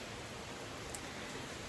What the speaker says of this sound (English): It's cloudy, it's rainy.